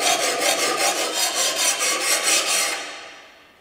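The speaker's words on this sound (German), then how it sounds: "Dazu nehme ich gern so einen Kombistein, der ähnlich wie eine Feile ist, mit einem Handgriff hinten dran." A lawnmower blade is filed by hand with the coarse side of a combination sharpening stone, giving loud rhythmic rasping strokes, about a dozen in steady back-and-forth succession, before the scraping fades out.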